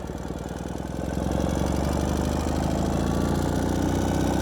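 A 2016 Ural Gear Up 2WD sidecar motorcycle engine runs steadily in first gear, a close, loud low-pitched chugging drone with a regular pulse that swells slightly after the first second and holds.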